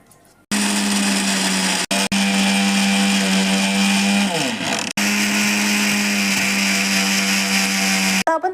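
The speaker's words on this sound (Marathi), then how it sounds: "त्या मिक्सरच्या भांड्यामध्ये आता त्याला मिक्सरनी फिरवून घेऊ" A kitchen mixer grinder whirs loudly while grinding roasted sesame seeds and peanuts for til gud poli, a steady motor roar that briefly cuts out and spins down partway before running on again.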